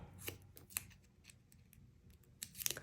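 Scissors snip through paper in a few short, close, quiet cuts, with faint rustling in between while making paper flowers.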